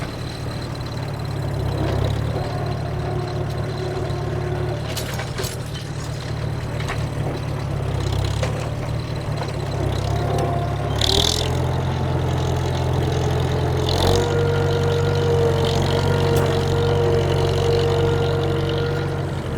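A tractor engine drones steadily while plowing a field for a contest plot, a loud continuous low rumble with a constant hum and occasional clanks and rattles, running alone throughout without speech.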